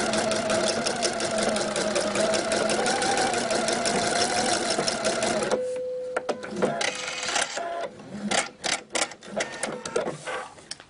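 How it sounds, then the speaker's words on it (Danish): A sewing machine runs in steady rapid stitching, sewing across the corner of a mattress-style seam on a homemade shopping net, then stops and gives way to short bursts of handling and fabric rustle. "Så har vi syet her tværs hen over vores madrashjørne."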